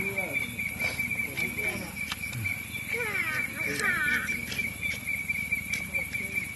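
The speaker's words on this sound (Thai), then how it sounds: "เสียงจิ้งหรีดไปด้วยครับ" Crickets chirp in a steady, high, continuous drone outdoors in Kengtung while a meal of ant eggs is cooked. Voices talk over the insects throughout.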